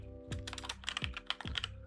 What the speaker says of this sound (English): Sorry if you can hear my keyboard. I have a loud mechanical keyboard.